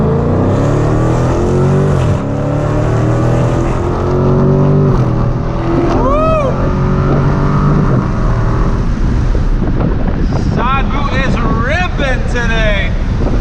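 A Dodge SRT drives on dry roads, its engine droning loudly and steadily throughout with wind rush and a rising rev; a person talks over the car noise at times.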